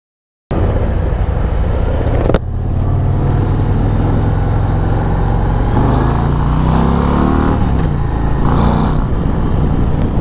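A 2024 Harley-Davidson Road Glide CVO ST motorcycle is ridden in track mode, its engine a loud, continuous rumble mixed with strong wind rush, rising slightly as the throttle builds.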